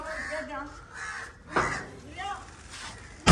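A voice imitates crows with repeated caw-caw calls amid talking in a Pakistani village, followed by a sudden loud burst at the end.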